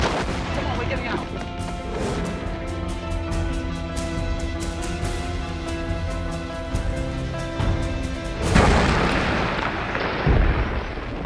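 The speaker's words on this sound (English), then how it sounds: "That's an explosion. That's not a gun firing." A loud, sustained blast of rumbling, crackling noise fills the scene, swelling again near the end with a heavier burst, amid a busy, noisy background.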